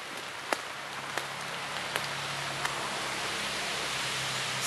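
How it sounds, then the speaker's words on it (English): Rainwater runs through a dug trench into a drainage culvert, a steady broad rushing wash with a few faint drips or ticks on top, close and continuous with no talking. "that water's flowing. Right into the culvert"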